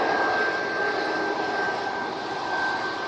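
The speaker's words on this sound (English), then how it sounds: "Very nice departure from the EasyJet." EasyJet airliner departing, its jet engines giving a steady, loud broadband roar with a thin sustained whine, continuous throughout with no voices.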